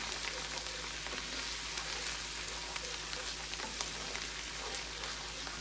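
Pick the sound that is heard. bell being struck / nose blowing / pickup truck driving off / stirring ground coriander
stirring ground coriander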